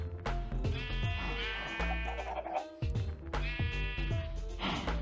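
Sheep in the Minecraft video game bleat loudly and close by, with several wavering bleats overlapping in two bursts separated by a short gap.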